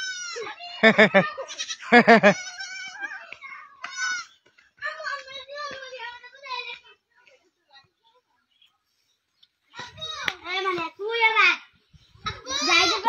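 A young goat kid bleats in quavering, high cries, a quick cluster near the start and more mid-clip, then a quiet pause before another run of bleats near the end.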